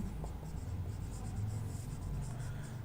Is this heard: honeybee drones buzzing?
no